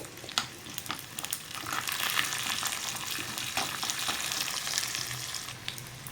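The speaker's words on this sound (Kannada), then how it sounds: "ಎಣ್ಣೆ ಕಾದ ಮೇಲೆ ಸಾಸಿವೆ ಚಟಪಟ ಅನ್ನಲಿ." Mustard seeds and urad dal spluttering in hot oil for a tempering, a bright crackling sizzle with scattered sharp pops, close and fairly loud, with occasional stirring.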